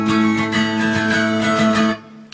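Electric guitar riff, a distorted, rhythmic run of repeated notes played loud and alone for about two seconds before cutting off.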